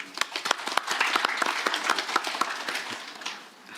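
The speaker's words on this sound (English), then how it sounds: "Let's have applause." A crowd at a business conference claps steadily for several seconds, a dense patter of hands that fades slightly toward the end.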